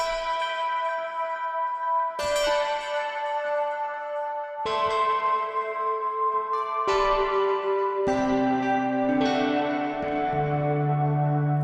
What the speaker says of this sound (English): Echo piano.